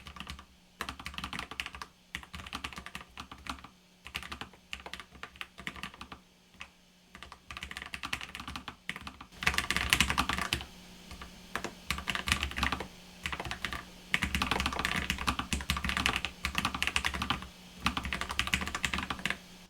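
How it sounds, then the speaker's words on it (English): Rapid typing on a Hexgears Immersion A3 TKL low-profile mechanical keyboard, close up, with bursts of clicky keystrokes separated by brief pauses and no talking. "So let's do a little bit of a typing test here."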